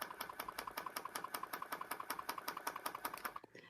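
A ClawLab tufting gun runs at a slow setting, a rapid, even mechanical clatter of regular strokes like a sewing machine, close and steady before stopping abruptly near the end.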